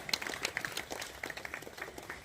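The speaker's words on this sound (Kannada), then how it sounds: "ಪೂರನ್ ಕುಮಾರ್, ದೊಡ್ಡ ಚಪ್ಪಾಳೆ ಬರಲಿ" An audience claps at a student award ceremony, a light spatter of applause heard from a distance and fairly faint.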